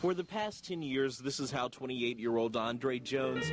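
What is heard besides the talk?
No everyday noise stands out behind the speech.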